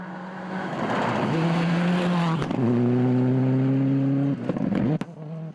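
A Rally Art New Zealand Mitsubishi Mirage rally car with a Lancer Evo 10 engine and mechanicals, running at Rally Wairarapa 2015, revs hard and loud through several gear changes before a sharp pop as it lifts off.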